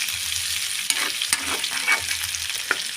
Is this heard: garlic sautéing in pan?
yes